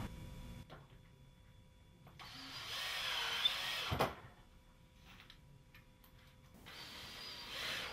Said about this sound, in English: the long drywall screws are a piece of cake. You just drill it in